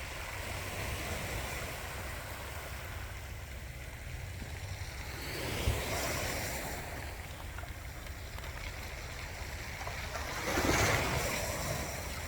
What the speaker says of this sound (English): you could hear the wave hit and it would roll all the rocks